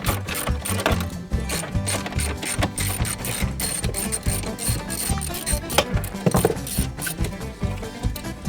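Ratcheting wrench work removing the bolts that hold the hard top on a sixth-generation Ford Bronco, a loud, steady mechanical clicking and whirring close by, with no talk over it.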